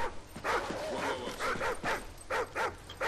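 A dog in the video game Call of Duty: Ghosts barks and yips in a run of short, fairly close woofs with a whimpering edge, over low game ambience.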